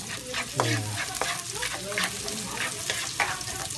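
Meke dough fries in hot oil with a constant bubbling sizzle, broken by intermittent stirring clinks and scrapes.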